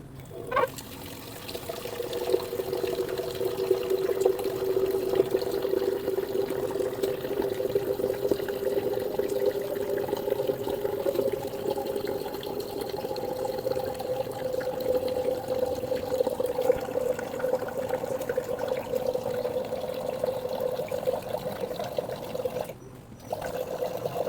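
A homemade pump on a water jug fills a 2-litre container, a steady pouring trickle with a constant tonal hum of flowing water that holds for about twenty seconds, with no talk.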